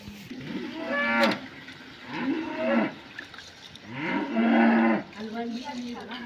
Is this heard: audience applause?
no